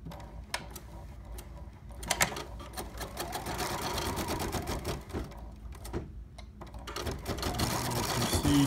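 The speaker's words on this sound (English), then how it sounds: "We'll proceed to tack the fabric down." A sewing machine tacking appliqué fabric down for a letter, running in fast rattling bursts with brief stops between them, close and clear, with faint handling noise.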